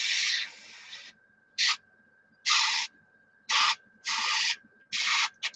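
An airbrush sprays a misty coat of primer in short hissing bursts, about six of them with pauses between. Each burst is close and fairly loud over a faint steady background tone.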